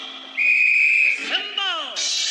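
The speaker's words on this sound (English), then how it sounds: "whistle." A loud whistle blast on a variety-show stage, one long steady shrill tone followed by sliding, warbling whistle notes, close and prominent.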